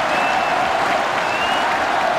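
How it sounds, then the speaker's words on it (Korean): Baseball fans rise in a standing ovation for a veteran batter stepping up to the plate, a dense, steady wash of stadium applause with no break. "팬들이 기립박수를 장정훈에게 보내고 있습니다."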